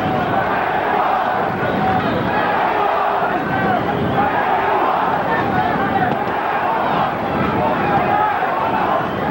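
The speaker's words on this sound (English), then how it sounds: "Crowd chanting Mexico, Mexico, trying to lift Chavez up" Boxing arena crowd during the Julio Cesar Chavez versus Meldrick Taylor fight, a dense steady roar of many voices that sounds like chanting, continuous and loud throughout with no breaks.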